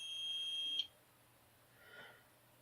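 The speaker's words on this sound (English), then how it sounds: "UPS alarm test. This allows you to test your alarms." A UPS unit's alarm during a short alarm test gives a steady, high electronic beep for under a second, then stops abruptly, leaving faint room hum and a soft distant rustle.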